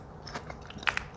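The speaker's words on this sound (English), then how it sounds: "This crunch just makes it 10 times better." Crisp bites into crunchy parmesan-crusted pasta shells and dinner rolls, a few short crackly crunches close up, the last two sharpest, with no talk over them.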